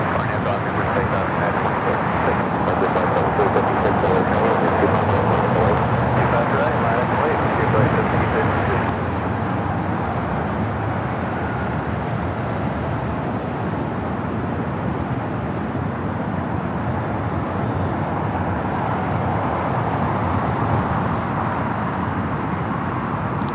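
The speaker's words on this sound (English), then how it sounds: "This is United Airlines 1855 taking off to Newark on the 787-10 Dreamliner." A United Airlines Boeing 787-10 Dreamliner takes off at LAX, a broad, heavy jet roar that stays steady throughout, with people talking over it.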